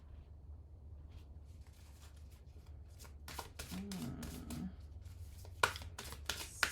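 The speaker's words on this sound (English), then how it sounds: "So let's pull some more dream cards here," Dream cards being shuffled in a quiet room, with soft riffling bursts building in the second half over a low steady hum, plus a few sharper taps near the end.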